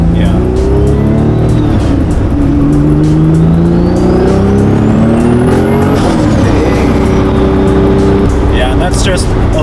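Turbocharged Honda NSX engine at partial throttle, a loud sustained drone with shifting pitch that climbs and settles as revs change, a rising turbo whine over it, heard from inside the car.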